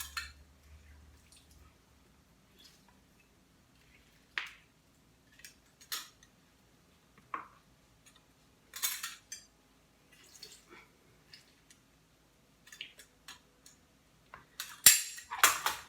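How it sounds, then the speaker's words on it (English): A lime is squeezed by hand in a quiet kitchen while preparing salsa, giving sparse, faint drips and small clicks spaced out over several seconds, with a slightly louder cluster of taps at the end. "And then I'm going to juice a lime."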